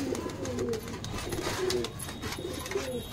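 Several pigeons coo repeatedly nearby, soft throaty calls overlapping in a loose rhythm against low background noise.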